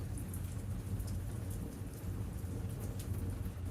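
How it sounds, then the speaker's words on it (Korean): Heavy rain intensifying and streaming down a bookshop window, a steady dense wash of hiss with a low rumble underneath, continuous and fairly close throughout, no voices. "조금 전부터 내리기 시작한 빗줄기가 점점 더 거세지고 있습니다."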